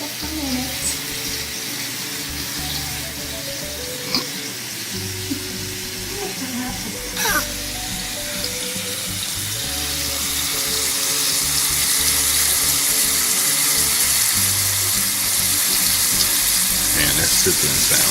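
Shrimp sizzle in butter in a pan for honey ginger garlic shrimp, a steady loud frying hiss with crackles that swells slightly toward the end, over a low background hum and a few clinks.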